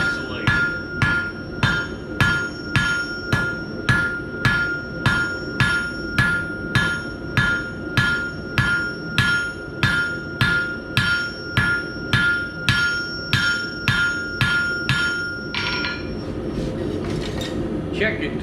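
Hot iron struck on an anvil while forging a nail, roughly twenty evenly paced, ringing hammer blows landing close and loud at a steady rhythm, then stopping near the end with only faint clatter.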